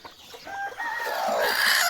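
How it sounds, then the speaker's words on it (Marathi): Hens cluck and chirp in a coop where they have newly hatched chicks, several close, rising calls layered over one another and growing louder toward the end. "आता त्या सगळ्या कोंबड्यांनी आपल्या पिल्लं काढलेली आहेत"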